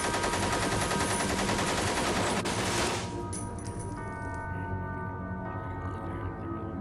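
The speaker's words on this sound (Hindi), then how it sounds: "एक जवान ने अपनी बंदूक निकालकर उन कैदियों पर गोलियों की बौछार कर दी।" A dense burst of rapid automatic gunfire rattles loudly for about three seconds, then cuts off into a fading echo and ringing tail.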